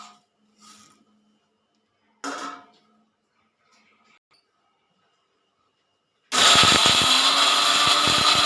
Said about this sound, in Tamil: இப்போ இது ரெண்டையும் ஒன்றா கொட்டி அரைச்சிக்கணும்